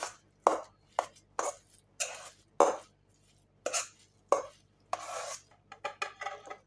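Rapid knife chops on a cutting board, about a dozen sharp taps in an uneven rhythm, close and clear with no talking.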